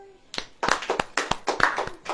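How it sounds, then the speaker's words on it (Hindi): A church congregation claps hands in quick, loosely rhythmic bursts nearby, with sharp overlapping smacks over about two seconds. "ताली बजाओ।"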